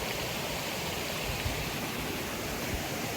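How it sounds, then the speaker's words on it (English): Steady, broadband rush of falling water at Koh Adang waterfall near Koh Lipe, Thailand, constant and fairly loud with no pauses, heard from close by. "overlooking the waterfall down there that we've climbed up"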